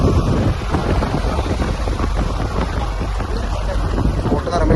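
A fairly large six-seat tourist boat cruises on open water, with strong wind buffeting the microphone and a constant low engine and water rush.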